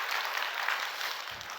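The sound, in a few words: congregation applause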